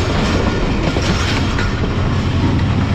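The Sialkot Express passenger train runs on its way through Shah Sultan Halt, a loud, continuous rumble with rhythmic clickety-clack of wheels on rail joints, close and unbroken throughout with no talk.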